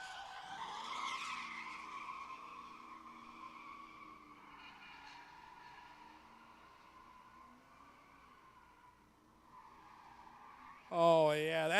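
Skidding tires from a truck with a Crown Vic front end and a 460 big block being thrown sideways at a drift and stunt show, a sustained squeal under a commentator's voice, with a sharper burst of tire noise at the end.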